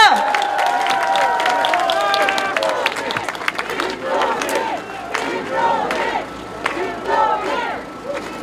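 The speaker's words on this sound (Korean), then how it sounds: "큰 박수 부탁드립니다." Crowd applause and cheering at a Korean election campaign rally in Jongno, Seoul, rising loud and close with shouts and whistles over dense clapping, a voice over the noise, fading toward the end.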